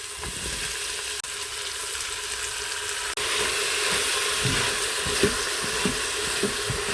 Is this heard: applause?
no